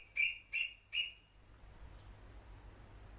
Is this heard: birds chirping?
yes